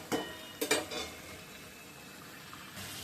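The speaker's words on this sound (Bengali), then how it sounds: "চতুর্দিক থেকে তেল ছড়াচ্ছে" Hot oil sizzles and spits in a pan of cooking beans, with a few sharp pops and clinks near the start that settle into a soft, steady frying hiss.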